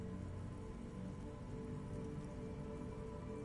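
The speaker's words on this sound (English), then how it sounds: "Urban coastline, rain dripping off Eternite-covered roofs." Rain dripping off Eternite-covered roofs along an urban coastline in the video game Disco Elysium, a faint, even, unbroken patter with no voices.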